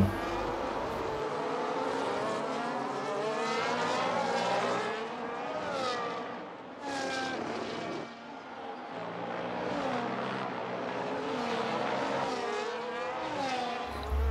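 Formula 1 race cars scream around a track in a racing video game, high revving engines rising and falling through gear shifts, with several cars passing, loud and continuous.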